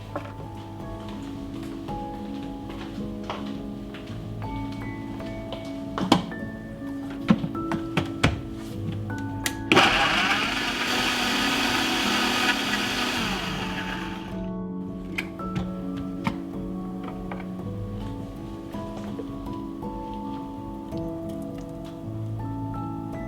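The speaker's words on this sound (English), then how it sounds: "I'm going to prepare the strawberry sauce by pureeing 1 cup of strawberries in my blender" A blender roars for about four seconds midway, pureeing strawberries, surrounded by scattered clicks, taps and a steady tonal background.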